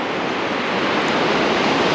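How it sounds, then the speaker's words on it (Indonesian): Ocean waves wash onto the beach at Teluk Melano at high tide, a loud, steady broadband rush of surf mixed with wind noise, continuous with no voices. "Inilah pantai Teluk Melano"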